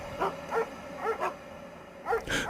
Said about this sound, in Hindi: तभी मुझे कॉटेज के बाहर कई सारे कुत्तों के भौंकने और रोने की आवाज सुनाई दी।